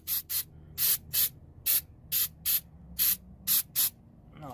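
Mass airflow cleaner sprayed from an aerosol can around the differential breather of a Toyota Tacoma: ten short, sharp hissing bursts in an uneven rhythm, close and clear against a quiet background.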